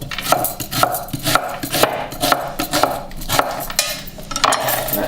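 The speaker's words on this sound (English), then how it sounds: "just roughly chopping them up." Knife chopping vegetables roughly on a board for homemade stock, a quick uneven series of sharp wooden knocks close by, with light clatter and no talking.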